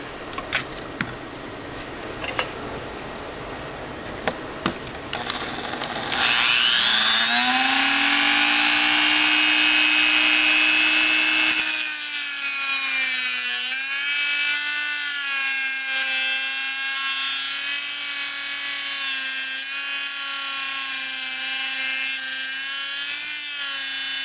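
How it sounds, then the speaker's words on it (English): Dremel cutoff wheel cutting metal from a Griptilian folding knife: a few faint clicks, then the tool spins up to a loud, high-pitched whine that shifts pitch as it bites into the metal and runs steadily. "So let's get the Dremel cutoff tool and take that piece of metal out."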